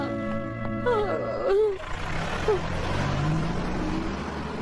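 Cartoon vehicle in a Shinchan scene pulling away or arriving, a brief engine rev and roar rising over busy music and sound effects.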